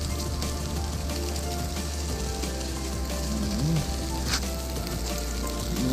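Tilapia frying in a pan outdoors, a steady loud sizzle and crackle of hot oil throughout, with faint background voices and a brief bird-like chirp.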